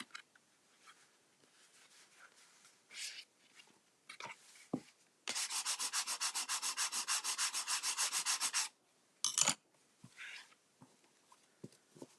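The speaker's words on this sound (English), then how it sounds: "I'm going to give that a little bit of a burnish." Paper on a notecard holder is burnished by hand, with a rapid, rhythmic scratchy rubbing lasting a few seconds, preceded and followed by scattered soft handling scrapes and taps at close range.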